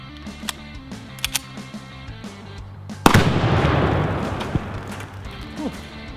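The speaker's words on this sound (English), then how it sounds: "being able to set off a binary explosive with a handgun" A binary explosive target is set off by a 22 TCM round from a Rock Island Armory Tac Ultra 1911 handgun outdoors: a few faint shots, then one sharp, loud blast with a long rumbling, crackling tail of flying debris.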